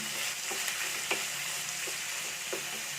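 Sliced onion frying in oil in a home kitchen pan, a steady close sizzle with a few soft stirring clicks throughout, no voices.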